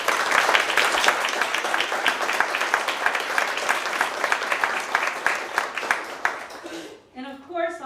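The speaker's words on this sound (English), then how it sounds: "So let's give them a warm round of applause." A warm round of applause from an audience at a special gift announcement honouring Senator Don Oliver, brisk and sustained for about six seconds, then tapering off as a speaker starts talking.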